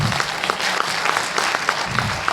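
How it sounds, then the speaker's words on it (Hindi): An audience at an Eduteck anniversary presentation claps loudly and steadily for about two seconds, a dense patter of hands with no voices over it. "इसके लिए जोरदार ताली बजाएं"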